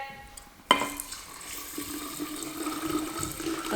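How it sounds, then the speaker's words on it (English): A kitchen tap suddenly gushes on and runs steadily into a pot for rinsing rice before a Cuckoo pressure cooker, a close, continuous splashing stream. "the tap water and you pretend you rinse the rice like so, right?"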